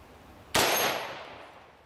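Green tip rifle round striking a titanium plate, a single sharp, loud metallic bang with a ringing tail that fades over about a second and a half.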